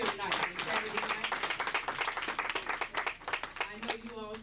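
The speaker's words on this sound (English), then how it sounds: "I think you all should keep clapping, give yourself a hand for just being here tonight." Audience applause and clapping fill an evening gathering, a dense steady roar of many hands held at close range, with a voice speaking over it near the end.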